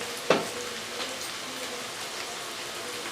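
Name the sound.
onions frying with black pepper and turmeric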